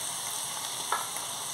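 Vegetables for Bengali sukto fry in a pan with salt, turmeric and ground coriander, giving a steady, close, even sizzle with one brief louder crackle partway through and no voices.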